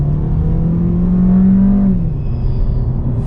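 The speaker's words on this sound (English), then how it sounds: "Now let's see how the engine responds." A 2020 Maruti Brezza engine revving under hard acceleration, a loud, close drone that climbs in pitch, then drops briefly on a shift and keeps pulling, heard from inside the cabin.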